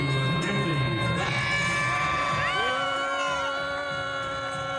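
A ballpark crowd in Canada jeers and boos a relief pitcher, Anthony Bass, as he walks from the bullpen to the mound: a dense, sustained roar of many voices, with scattered higher yells and whoops, continuous throughout.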